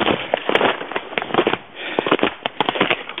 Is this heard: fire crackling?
yes